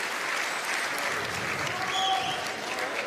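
Pétanque spectators at a women's final applauding a shot, sustained clapping from a crowd at moderate distance, steady and even for several seconds, with a few brief voices rising over it.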